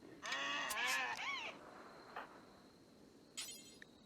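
An ibex in RimWorld bleats in a long wavering call up front, followed by a short quieter bleat near the end over soft ambient hiss.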